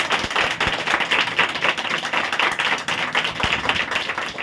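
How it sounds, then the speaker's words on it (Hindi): A congregation claps loudly and steadily during a Hindi Christian worship service, a dense run of hand claps with a few sharper taps mixed in, sustained for several seconds. "जोर ताली बजाओ जरा जोर से"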